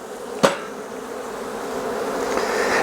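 Honey bees buzzing around a hive on a calm day, a steady broad insect drone that swells slightly over time, with a single sharp knock near the start.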